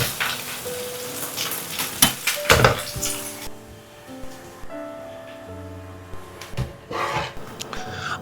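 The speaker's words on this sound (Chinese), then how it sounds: "全程开大火快速翻炒，把四季豆表面多余的水分炒干" Green beans stir-fried in oil in a wok over high heat, with sizzling frying, clanks of a spatula against the pan and scraping tossing sounds, loud at first then settling into softer sizzle.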